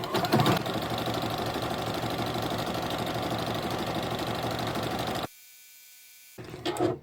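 A sewing machine runs a zigzag stitch in a fast, steady mechanical whir with rapid needle chatter for about five seconds, then stops abruptly before a short restart, close and clear with no talk.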